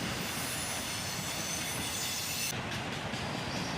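Freight cars with auto racks roll past nearby, making a continuous loud rumble with wheel clatter and a high squeal of steel wheels on the rails, no voices.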